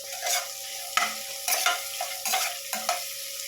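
Ingredients for white pulao sautéed in a pan toward golden brown: a soft background sizzle broken by several rhythmic scraping stirs of a spatula across the pan, close and fairly quiet.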